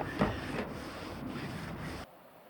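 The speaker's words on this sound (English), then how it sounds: "And then supposedly we just rub it to activate it." Adhesive material being rubbed by hand to activate it during a Ford E350 van conversion, a steady close scraping friction lasting about two seconds before stopping abruptly.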